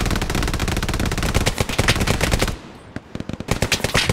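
Suppressing fire in the World War II shooter Hell Let Loose, on the Foy map. Loud, rapid automatic bursts hammer in a fast stutter, break briefly, then resume in sharper separate shots, with no voices.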